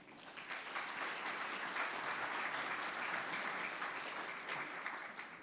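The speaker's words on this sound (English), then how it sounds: "Let's give them a round of applause as well." An audience at a breakfast event on local nonprofits applauds, a dense, sustained clapping from many hands that holds steady for several seconds before tapering slightly at the end.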